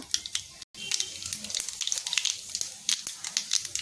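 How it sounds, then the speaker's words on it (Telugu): Mustard seeds and cumin crackle in hot oil in a kadai, a close, busy sizzle with scattered sharp pops and spits throughout, briefly cutting out for a moment near the start. "కడాయి పెట్టి ఆయిల్ వేసి వేడెక్కాక కొంచెం ఆవాలు జీలకర్ర"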